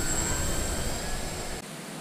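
A Dynam T-28 Trojan RC plane flies on its maiden flight with gear and flaps down, giving a steady broadband engine drone that holds loud and even before dipping slightly near the end.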